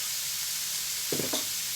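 Steady sizzling of chopped onion frying in hot oil fills the background, with a couple of soft knocks or stirring sounds partway through.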